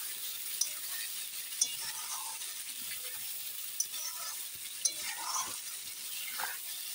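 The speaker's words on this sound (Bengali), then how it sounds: "দেখো মশলাটা কত সুন্দর কষানো হচ্ছে" Spiced fish and potato curry frying in a pan while being stirred, giving a steady soft sizzle with occasional scraping clicks of the spoon, fairly close and quiet.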